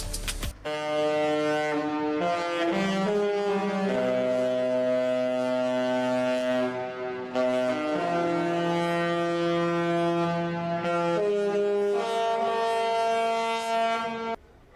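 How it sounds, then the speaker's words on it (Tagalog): A loud cruise ship horn sounds a musical sequence of long, sustained blasts that shift pitch from note to note, playing a tune, ringing continuously for about fourteen seconds at the dock in Saint John, New Brunswick. "Yun yung horn niya, ang tawag nila battle horn."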